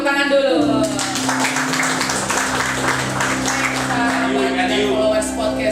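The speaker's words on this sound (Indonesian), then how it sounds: "Baik, tepuk tangan dulu." Applause from a gathered audience at a military bureaucratic-reform talk at Korem 151 in Maluku, sustained clapping that fills the whole stretch with a steady hum and faint tones beneath.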